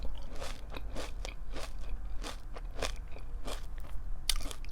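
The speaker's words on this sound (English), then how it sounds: "I like Special K. It's staying pretty crunchy." Crunchy Special K cereal chewed close to the mouth, a quick series of about a dozen sharp crunches in a steady eating rhythm over soft background hum.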